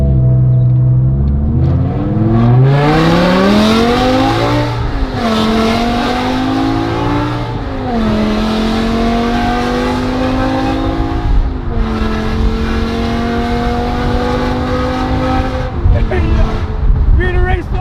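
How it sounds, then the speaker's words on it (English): Loud, close car engine revving hard through rising gears like a race car, pitch climbing and dropping in repeated sweeping runs with shifts, while people talk over it. "Oh, it sounds insane. Sounds like a Formula One car."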